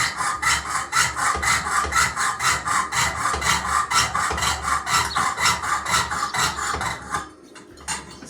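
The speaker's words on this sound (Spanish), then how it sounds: "Se va cortando la chapa de esta manera." A coping saw, its frame tensioned, cuts a thin wood sheet with steady, rhythmic back-and-forth rasping strokes, loud and close, about two strokes a second, stopping near the end.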